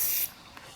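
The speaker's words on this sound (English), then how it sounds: "so he's just whacking some degrease, as long as he doesn't spray it on me" A short hiss of degreaser sprayed from a can onto the rear shock of a KLR650 motorcycle, a bright burst lasting a quarter second up close, then trailing off into quiet workshop room tone.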